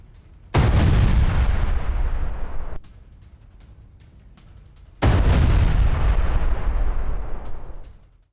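Bombardment and anti-tank missile strikes against military positions in Lebanon produce two heavy, close explosions. Each one is a sudden loud blast that rumbles on for a couple of seconds before cutting off.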